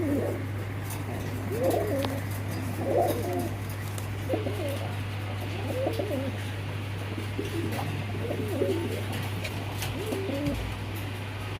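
Fancy pigeons coo in repeated soft, throaty phrases at an unhurried rhythm, fairly close, over a constant low electrical hum.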